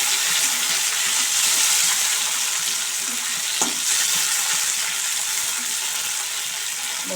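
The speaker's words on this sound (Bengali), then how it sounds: "বরবটিগুলো একটু ভাজা ভাজা হচ্ছে।" Yardlong beans fry in mustard oil in a pan, giving a loud, steady hiss and crackle that runs unbroken from start to finish, with faint stirring scrapes now and then and no talking.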